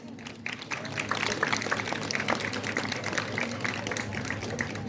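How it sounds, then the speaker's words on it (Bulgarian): Dense, steady applause from an audience at a children's concert event honoring donors, many hands clapping together in a continuous rushing patter that holds evenly throughout. "Аплодисменти и за тях."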